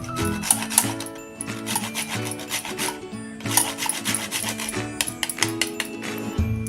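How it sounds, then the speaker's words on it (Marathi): Whole nutmeg grated by hand for wheat kheer sweetened with jaggery, a close, steady rasping scrape in quick repeated strokes with a brief pause partway through, heard over faint background music. "थोडं यामध्ये आपण असं जायफळ किसून घ्यायचं आहे"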